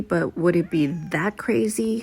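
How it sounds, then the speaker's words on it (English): A pet cat meows over close, continuous talking, its cries blending into the speaker's voice across the short stretch. "That's my cat."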